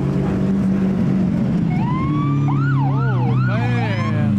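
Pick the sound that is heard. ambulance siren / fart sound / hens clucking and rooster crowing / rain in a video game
ambulance siren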